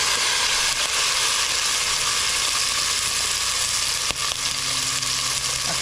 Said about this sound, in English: Just going to put a drop of oil in the bottom just to get the beef started.